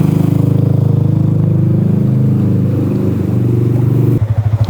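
A motorcycle ridden along a flooded road, with a loud, close, steady engine drone pulsing evenly throughout, turning into a rougher throbbing putter in the last half second, with no speech.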